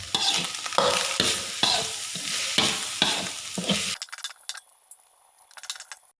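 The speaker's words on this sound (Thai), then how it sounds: "ใส่ปูอัดลงไป ตาม ด้วย ลูกชิ้นครับ" Crab sticks and meatballs being stir-fried in a pan for fried rice: steady sizzling with rhythmic spatula scrapes and stirs about once a second, then the frying quiets to a faint hiss with light clinks near the end.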